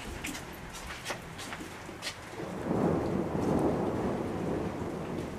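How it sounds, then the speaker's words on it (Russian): Low, rumbling thunder rolls in from a distance and swells midway on a warm day in Spain, with faint rain pattering throughout. "Гром гремит"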